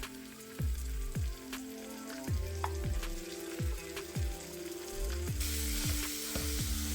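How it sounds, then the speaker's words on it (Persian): Ground meat sizzling with onions in a frying pan, a steady crackling fry broken by repeated scraping stirs of a utensil against the pan, close and alone without talk. "و هم میزنم و میذارم تا گوشت چرخ کردم کاملا سرخ بشه"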